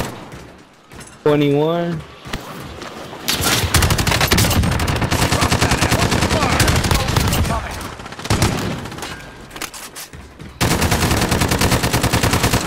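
Rapid automatic gunfire in the video game Call of Duty: Modern Warfare, long dense bursts with short gaps, loud and close, while players talk over it.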